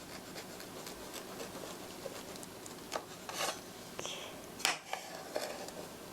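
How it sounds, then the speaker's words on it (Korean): A knife saws through a soft, unsweetened green onion cake in a series of quiet, brief rasping and scraping strokes, close and faint against a hushed room. "칼을 세워서 슉 톱질하듯이 꼭꼭꼭꼭"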